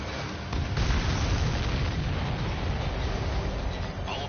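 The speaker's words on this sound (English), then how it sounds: "All of the missiles have been destroyed." Missiles bursting in the jet combat game Ace Combat 7, a dense, sustained roar of booming explosions that swells in at about half a second and rumbles on loudly with crackling bursts throughout.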